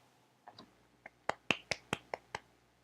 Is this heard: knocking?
no